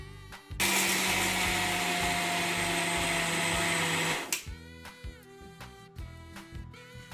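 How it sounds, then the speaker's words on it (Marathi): A kitchen mixer grinder coarsely grinding peanut chutney: a loud, steady high-pitched whir for about four seconds that stops abruptly, followed by quieter clinks and rattling of the jar. "इथे मी मिक्सरच्या भांड्यामध्ये टाकून घेतलेलं आहे सगळं. आता आपण हे असं जाडसर आकारामध्ये वाटून घेऊया."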